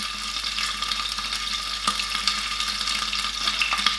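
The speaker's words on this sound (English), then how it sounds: "You can really hear it start to sizzle." Continuous bright sizzling of onions frying in hot oil, steady and close, with occasional soft crackles and no talking.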